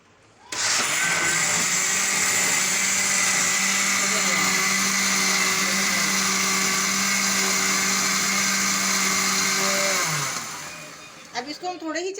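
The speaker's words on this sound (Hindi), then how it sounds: "अब मैं इसको आपके सामने ब्लेंडर में डाल के" An electric blender whirs loudly and steadily for about ten seconds as it purees boiled raw mango, dates and jaggery, then winds down. A brief clatter follows as it stops.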